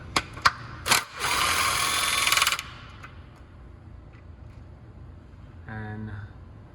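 A socket ratchet working 10mm bolts on a Jeep Wrangler 3.6L, with a few metallic clicks and taps, a burst of rapid ratcheting, then quieter handling and a short tonal whir near the end.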